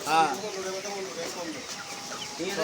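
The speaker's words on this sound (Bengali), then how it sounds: "মুরগির দোকান" Chickens cluck and squawk in quick, close bursts at a poultry shop in a hilltop market near Mecca, amid lively market background noise.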